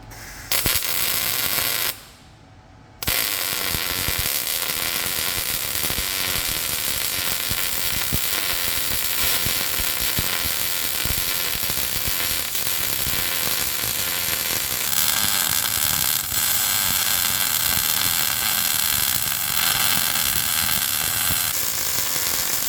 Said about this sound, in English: We're gonna weld this thing in.